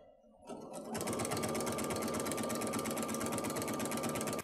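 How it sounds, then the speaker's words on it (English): A sewing machine runs steadily as it stitches along the edge of a t-shirt quilt, starting after a short quiet moment and then holding a loud, continuous mechanical whir to the end. "continue on all the way down to the edge of the other edge of the quilt and backstitch at the end there"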